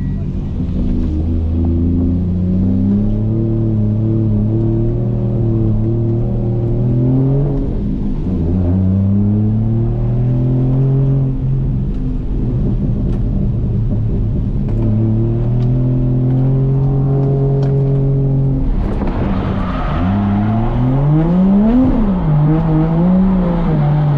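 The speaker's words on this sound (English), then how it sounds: "Now I get to drive your Aussie car, man." An Australian car's engine pulls through several gears while driving, each rising tone ending in a drop as it shifts, loud and close inside the cabin, with a final burst of revving near the end.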